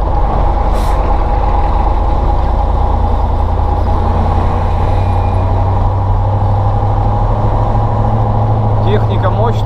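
Heavy Caterpillar and Volvo trucks and machinery work at a dry site in the Urals, a loud, steady diesel rumble running nonstop with a short hiss near the start and faint beeps toward the end.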